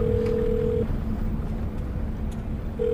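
A telephone placing a call: a steady electronic line tone sounds at the start, breaks off, then returns at the end over a constant low background hum.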